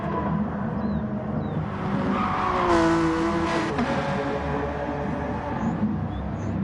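Race cars, a BMW and an NSX among them, roar down a straight in a sustained, loud engine drone that swells and climbs in pitch midway before settling into a steady hum. No one speaks.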